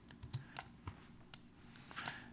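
Typing on an extended computer keyboard, a quick scatter of crisp key clicks at an uneven pace over a low room hum, close and moderately loud, with no talking.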